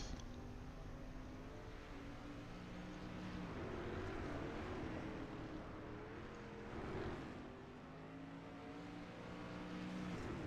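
A dirt street stock car engine in the iRacing game drones steadily while the throttle is worked, its pitch rising and dipping in waves as the car is held sideways, with a brief lift near the end.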